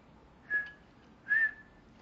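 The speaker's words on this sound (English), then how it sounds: "Can you whistle?" Two short whistled notes sound close by, separated by a brief pause, clear against a quiet background.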